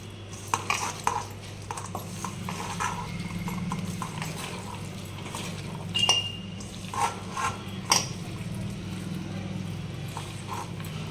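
Chicken pieces, including fried leg pieces, being mixed with spices in a bowl, giving a steady run of soft clinking and scraping knocks, with a few sharper metallic taps standing out.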